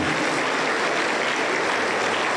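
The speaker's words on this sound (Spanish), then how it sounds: "Aplauso para el Señor Jesús." Dense, steady applause from a church congregation at a Spanish-language service, many hands clapping together loudly and evenly without pause and with no voices over it.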